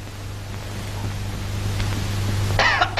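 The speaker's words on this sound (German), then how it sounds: "Du, das Husten muss raus." A single short, harsh cough bursts out near the end over a steady low electrical hum and faint room noise during a trial recording of a chamber singer.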